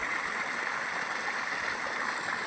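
Steady rushing water from a farm water pump motor, a continuous broadband gush with a faint motor hum beneath, close and unbroken throughout.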